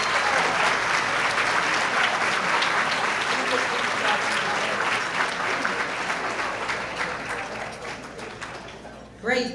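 An audience at a Summa Cum Laude ceremony claps for the honored students, loud continuous applause that slowly thins toward the end before a brief closing burst.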